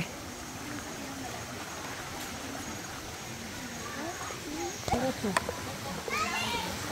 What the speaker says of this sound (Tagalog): Dinig na dinig po yung ano po ng daloy ng tubig